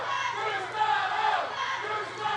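A wrestling crowd at a championship bout roars steadily, a sustained blend of cheering and shouting voices that hums evenly throughout.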